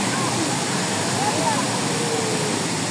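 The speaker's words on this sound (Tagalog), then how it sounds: "This is it, the falls." Kawasan Falls waterfall roars as a dense, steady broadband rush of falling water, loud and close, with no break across the whole moment.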